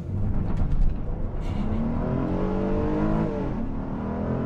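A 2021 Honda Odyssey minivan's V6 engine revs hard in sport mode and climbs in pitch as it accelerates, a steady loud drone with rising harmonic whine, no voices.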